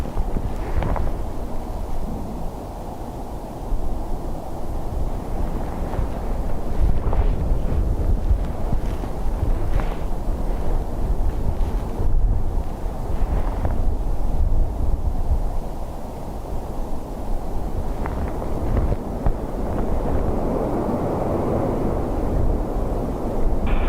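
Strong wind buffets the microphone at Dublin Airport in a continuous, heavy low rumble that surges and eases over the whole stretch, with no voices.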